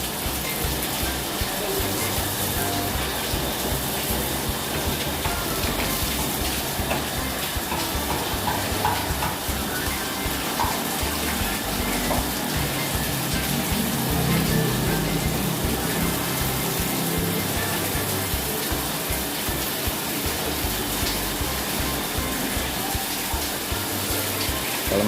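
Water is splashed and poured steadily to rinse soap suds and dirt off the walls of a fish pond during cleaning. It makes a continuous, close gushing wash with no speech.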